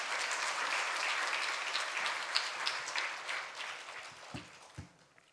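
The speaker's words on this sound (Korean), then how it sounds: "우리 박수로 환영하겠습니다" A church audience at a Sunday afternoon teachers' seminar claps to welcome a visiting pastor to the front, steady applause from many hands that thins out and ends with a few last claps.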